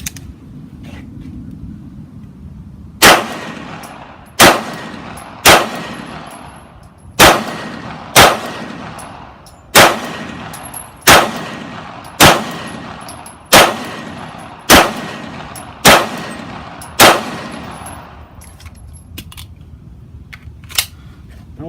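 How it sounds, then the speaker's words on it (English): Beretta M9/92FS pistol fired outdoors, about a dozen sharp loud shots spaced roughly a second apart, each with a short ringing decay, against a low background rumble. "We're going to fire off a few more rounds here."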